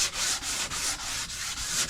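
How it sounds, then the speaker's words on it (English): Steady back-and-forth hand sanding of a countertop with 220-grit sandpaper, close up, in regular rhythmic strokes about every third of a second. "all sanding will be done by hand. And we're using, for the first sanding,"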